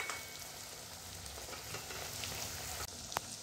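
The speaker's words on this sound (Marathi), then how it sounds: "याला जे आहे ऑलमोस्ट आम्ही 3 ते 4 मिनटं जे आहे प्रॉपर फ्राय करतोय" Fish pieces frying in hot oil for a crispy desi fish fry, a steady dense sizzle and crackle close by with no talking.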